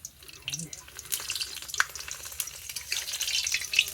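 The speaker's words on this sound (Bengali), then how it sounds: "এখন হচ্ছে পাপড় ভাজা সবে চলছে।" Papad frying in hot oil, a bright, busy crackling sizzle close by with some scraping and stirring, fairly loud and continuous for a few seconds.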